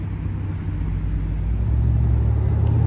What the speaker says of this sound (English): Ferrari Roma.